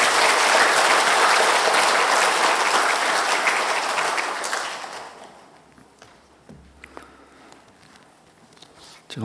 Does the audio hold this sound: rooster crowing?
no